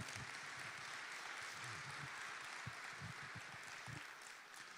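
A conference audience at a general session clapping, a sustained wash of applause from many hands, fairly distant and even, tapering slightly near the end.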